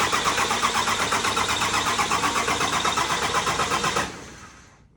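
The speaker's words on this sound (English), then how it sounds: "let's get into the video of starting the right-hand drive Land Cruiser" A 12-valve 6BT diesel swapped into a right-hand-drive 80 Series Land Cruiser cranks with a rapid rhythmic starter chug and fires into loud, clattering running, then the sound drops away sharply near the end.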